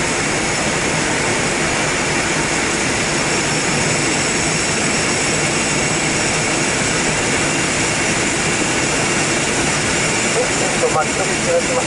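A small plane's engine drones steadily and loudly during a turn in flight over a runway area, a constant roar filling the cabin while people talk beneath it.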